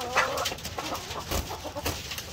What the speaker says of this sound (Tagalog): lahat na itong mga manok na ito ay nagpapakasta na rin